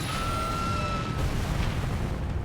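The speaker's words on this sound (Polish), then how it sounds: "samolot Saudi rozrywa potężna eksplozja." A powerful explosion tears apart a Saudi airliner in a mid-air collision, heard as a dense, sustained low rumble and roar with a steady level, alongside faint descending high-pitched whines.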